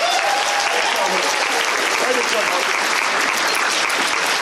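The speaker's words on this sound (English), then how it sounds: "Guys, can we get a round of applause for Harper?" A crowd at a furry convention applauds for Harper, a newcomer in a fursuit head, with dense sustained clapping filling the room and a voice briefly speaking over it.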